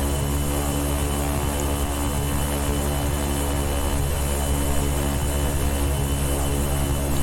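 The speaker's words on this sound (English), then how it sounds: "On and off the reversers." Jet thrust reversers roar steadily on landing rollout in the X-Plane 11 flight simulator, a loud, continuous engine drone with no talk.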